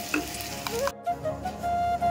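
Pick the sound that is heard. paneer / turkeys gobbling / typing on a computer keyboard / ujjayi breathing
paneer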